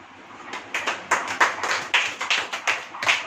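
A church congregation at a Hindi Christian sermon claps along in uneven, overlapping bursts, roughly a dozen sharp hand claps over a few seconds, close and moderately loud, with no voices over them.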